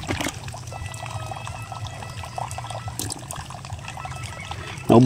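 Water pours steadily into a fish pond, a continuous splashing gush with trickling texture, moderately loud and alone until a brief louder bump at the very end.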